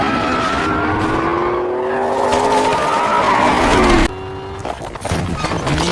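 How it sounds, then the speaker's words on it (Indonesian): A sports car skids while chasing deer through a city, with sustained tire squeal and revving engine for several seconds, loud and close, then a brief lull before the screeching resumes. "Robert berniat berburu rusa dengan membawa mobil sport miliknya"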